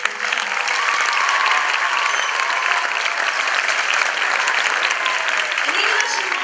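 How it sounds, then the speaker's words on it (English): Dense, loud audience applause at an elementary school Festival of Lights concert, a sustained wall of many hands clapping steadily from start to finish with no break. "Big round of applause for Jenny."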